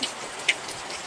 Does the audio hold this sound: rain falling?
yes